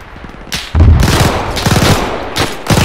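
Loud, close automatic gunfire crackles in rapid bursts during an Operation Market Garden battle in a multiplayer war video game, with heavy rattling volleys packed tightly across the moment.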